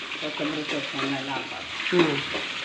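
Grated coconut, turmeric powder and spice masala fry in a pan with a steady close sizzle, while voices talk over it throughout.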